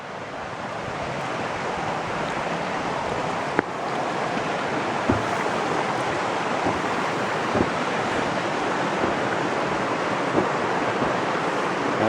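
Creek water rushing steadily beside a trail footbridge on a mild day, a broad constant wash with a few soft knocks and no voices.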